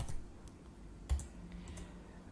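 Quiet typing on a computer keyboard, a few soft scattered key taps with one slightly louder press over low room hum.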